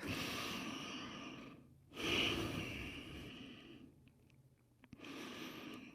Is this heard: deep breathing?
yes